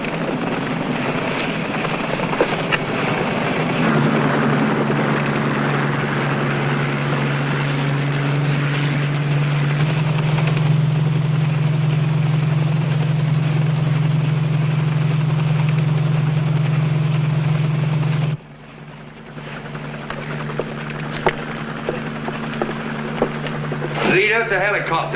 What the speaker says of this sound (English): The helicopter.